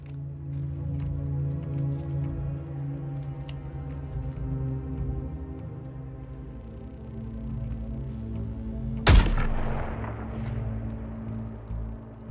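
A single loud, sharp gunshot in the Suicide Squad Kill the Justice League video game cracks out near the end, after a long stretch of low, droning music.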